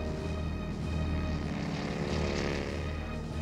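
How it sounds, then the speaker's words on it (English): Propeller aircraft engines roar as carrier planes launch at sea, a dense continuous droning buzz of several engines, loud and close, swelling slightly mid-way. "ordering his 83 planes to be launched in the pre-dawn darkness"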